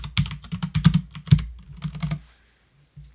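Typing on a computer keyboard while writing a product description for an Earth Power necklace, a quick run of close, irregular key clacks that stops and leaves near silence with one last faint tap.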